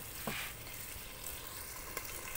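Arbi chicken being fried (bhunai) in a pan, a faint, soft sizzle with a couple of light stirring scrapes.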